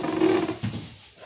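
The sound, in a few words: chair creaking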